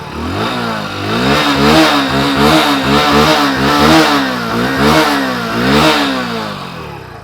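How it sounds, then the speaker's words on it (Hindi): A Hero 100 cc motorcycle engine revs repeatedly, its exhaust note rising and falling in steady throttle blips, loud and close with no talking. "इंजन साउंड, एग्जॉस्ट नोट सुनो, थ्रॉटल देता हूँ।"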